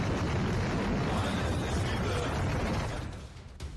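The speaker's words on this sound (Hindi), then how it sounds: "इंटरकॉन्टिनेंटल बैलिस्टिक मिसाइल यानी कि ICBM का जबरदस्त धमाका ऐसा होता है।" An intercontinental ballistic missile warhead explosion rumbles as a loud, sustained roaring blast, dense and broadband, fading toward the end.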